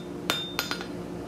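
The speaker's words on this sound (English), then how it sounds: "Now I'll put a slight chamfer on that end," A hammer strikes hot steel at weld heat on an anvil while chamfering an end for forge welding, giving four sharp metallic clinks that ring briefly, two of them in quick succession, close and without talk.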